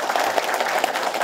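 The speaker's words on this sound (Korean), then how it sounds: "큰 박수로 환영합니다." Applause from a seated audience at a New Year's city visit by Gongju officials to Jeongan-myeon, a dense steady patter of many hands clapping throughout, fairly close and continuous.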